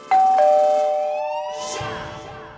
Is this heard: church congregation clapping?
no